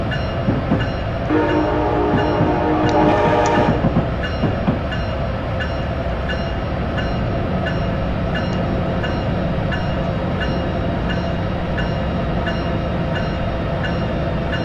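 Amtrak Siemens ACS-64 electric locomotive in Train Simulator 2016, a loud steady motor hum and rolling rumble with a brief rising electric whine early on, continuing evenly to the end.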